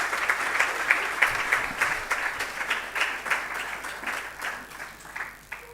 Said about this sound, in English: a round of applause for Sysmex and also to the director for doing this for us